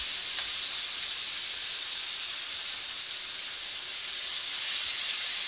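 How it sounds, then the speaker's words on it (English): Beef stock poured into a hot pan for shepherd's pie, giving a steady, even hiss of sizzling steam that holds at one level throughout without pause. "I am now going to put in my stock."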